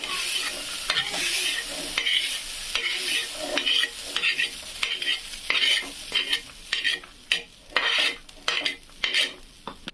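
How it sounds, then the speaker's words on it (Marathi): Green chillies roast in a pan for a green moong bean curry, with steady sizzling and frequent scraping and stirring clicks from a utensil, close and fairly loud. The stirring grows sharper and more percussive toward the end. "तर आता याच्यावर मिरच्या भाजून घेते हिरव्या"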